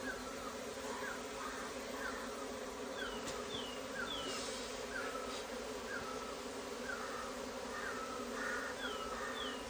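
Honey bees swarm during honey hunting with a dense, continuous buzzing that stays steady and fairly close throughout, while faint repeated chirps sound in the background.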